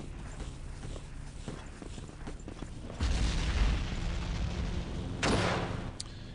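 Bombs from an aircraft strike a tank in Battlefield 1942, a heavy booming blast landing around the three-second mark with a second sharp burst soon after, over a steady background rumble of battle.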